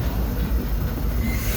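The Disneyland Railroad train runs on its rails during a night ride, giving a steady close rumble of wheels and carriage with faint rhythmic clatter, loud and unbroken, with no talk.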